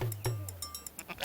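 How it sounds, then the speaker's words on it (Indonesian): Texel meat sheep bleat several times in quick succession, short nasal calls close by, with brief gaps and a louder bleat at the end. "Texel adalah jenis domba pedaging."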